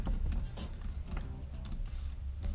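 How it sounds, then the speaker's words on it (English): Typing on a computer keyboard, a rapid irregular run of close, crisp key clicks continuing throughout with no voice. "at the bottom of the page, I'm typing in what I want"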